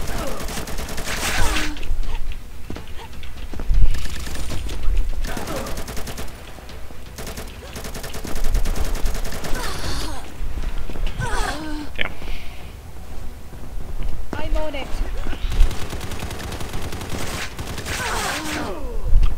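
Repeated shotgun blasts and bursts of gunfire ring out in a Combat Master first-person shooter match, coming in loud, clustered volleys with short gaps between them, while a voice talks briefly underneath.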